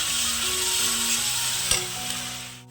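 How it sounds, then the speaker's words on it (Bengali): Spice paste fried and stirred in a pan for a potato, egg and pointed gourd curry, giving a steady close sizzle with a single sharp scrape of a spoon partway through. "আর এইদিকে হচ্ছে এখন মশলাটা কষাচ্ছি।"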